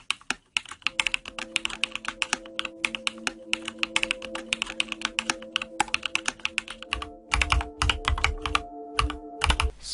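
Rapid, steady keystrokes on a computer keyboard while code is typed, close and clear with irregular bursts of clicks and brief pauses, with a faint background tone underneath.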